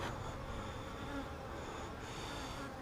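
Honey bees in mating nucs hum in a steady, unbroken buzz that stays faint and even throughout.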